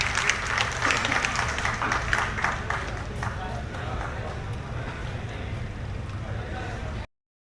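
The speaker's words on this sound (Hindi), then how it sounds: "आप लोग तालियां बजाते रहें, कार्यक्रम को जीवंत बनाए रखें।" Audience clapping at a Hindi Diwas kavi sammelan poetry event at Lucknow University, a steady dense patter lasting about seven seconds, louder at first and then evening out before cutting off.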